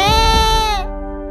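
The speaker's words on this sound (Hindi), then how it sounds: "अरे ये तो मुन्ना के रोने की आवाज है।" A cartoon baby wails in a Hindi comedy cartoon, one long, loud, high-pitched cry that holds steady, then trails off and fades out near the end.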